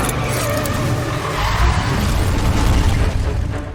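A car driving hard over cobblestone streets in a chase, a loud, steady, close rumble of engine and tyre roar with rough low-end texture and a few booming thumps, no talk over it.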